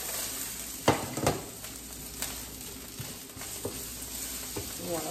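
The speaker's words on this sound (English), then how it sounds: "So I'm gonna add my broccoli and my peppers in there." Broccoli and peppers stir-frying in a pan for a chili garlic shrimp and ramen dish, with a steady close sizzle broken by a few louder scrapes and stirs.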